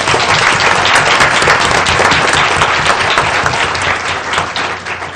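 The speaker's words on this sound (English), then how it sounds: "just stand one more time so we can applaud their efforts" Sustained applause from a school board meeting audience honoring a group of high-achieving seventh-grade students, a dense, loud wash of many hands clapping steadily, tapering slightly toward the end.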